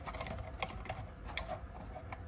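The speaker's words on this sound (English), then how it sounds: "So first thing I'm going to do is cut the old hoses." Old rubber hoses on a Ford BA/BF Falcon fuel pump assembly being snipped off, giving a few sharp cutting clicks over a steady low workshop hum, close up with no talking.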